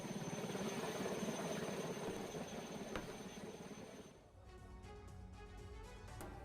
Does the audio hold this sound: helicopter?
yes